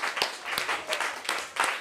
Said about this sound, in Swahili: Pigie Yesu Kristo makofi yako mengi